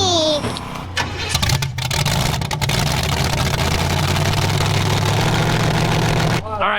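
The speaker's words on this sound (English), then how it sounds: "we got the motor running again" Demolition derby car engine running steadily with a loud, rough idle and low throbbing drone close by, holding constant for several seconds before cutting off abruptly.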